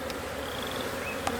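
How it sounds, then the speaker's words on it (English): Irritated honeybees from an opened hive, stirred up after a hive tool lands on an inner cover full of bees, make a steady dense buzzing close by, with a few individual bees whining past. "Drop your hive tool on your inner cover full of bees."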